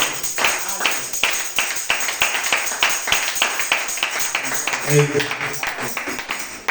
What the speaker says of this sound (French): On va une fois pour l'acclamation au Seigneur